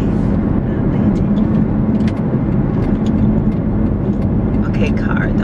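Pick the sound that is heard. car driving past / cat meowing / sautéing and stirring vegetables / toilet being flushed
car driving past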